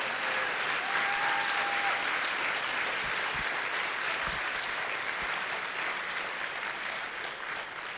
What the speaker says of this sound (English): a round of applause for every corporate champion that's in the room